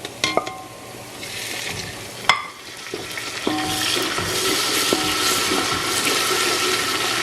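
Ginger-garlic paste hits a hot pan for chicken biryani with a few sharp clatters, then settles into a steady, close sizzle that fills the rest.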